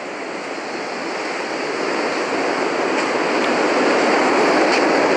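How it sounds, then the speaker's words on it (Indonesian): A continuous loud roar of crashing surf that builds gradually, a broad wash of noise with no voices. "suara ombak sangat keras sekali"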